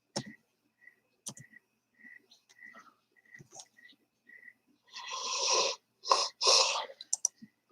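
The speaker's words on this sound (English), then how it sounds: "See, there's another yawn." A person yawns with a drawn-out breathy exhale, then a second one, after scattered soft clicks and faint noises in a quiet room at night.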